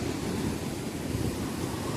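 Sea waves wash continuously onto the shore in a dense, steady roar mixed with wind noise, loud and close, with no voices.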